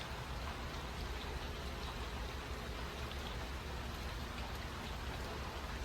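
Heavy rain pours down outdoors in a steady, dense hiss that stays even throughout, with no voices over it.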